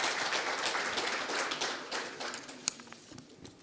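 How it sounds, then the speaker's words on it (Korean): Applause from a conference audience in Korea welcoming a panel of financial officials, dense at first and then thinning into scattered claps with one sharp clap near the end. "큰 박수 부탁드리겠습니다."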